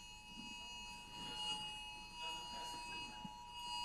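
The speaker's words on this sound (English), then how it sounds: "Is that a fire alarm?" Fire alarm sounding inside a building during a workshop session, a steady high electronic tone held throughout, faint and distant, with muffled voices in the room beneath it.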